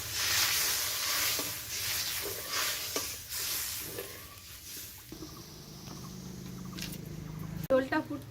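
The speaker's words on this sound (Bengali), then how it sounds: "এবার এর মধ্যে দিচ্ছি জল" Water poured into hot oil and fried spice masala in a village kitchen bursts into loud hissing sizzle that settles into a steady simmer, with a person speaking over it.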